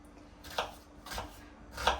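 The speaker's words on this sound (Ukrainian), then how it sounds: "Спочатку я нарізаю цибулю і чесничок." Three separate knife strokes chopping onion and garlic on a cutting board, soft and close, spaced unevenly in a quiet kitchen.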